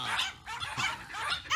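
Dogs barking in Pokémon HeartGold, several short electronic bark and yip sounds in quick succession, moderately loud with brief gaps between bursts.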